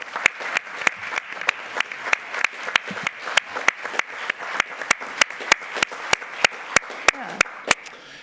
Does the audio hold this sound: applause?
yes